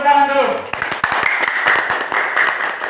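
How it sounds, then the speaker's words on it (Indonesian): An audience in a classroom-style session claps their hands in a burst of scattered applause following a brief spoken prompt, steady and close for a couple of seconds. "Oke, tepuk tangan dulu."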